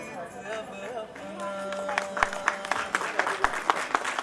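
Audience clapping at a Women's Day celebration, building from scattered claps into steady applause with sharp individual hits, heard up close while someone speaks and a tone rings briefly at the start.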